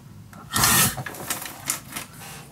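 A half-inch piece cut for a craft storage unit, a short burst of rough cutting or rasping followed by a few lighter scrapes and taps, close and fairly quiet, with no talking.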